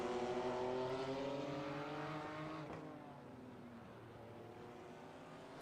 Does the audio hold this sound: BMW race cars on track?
yes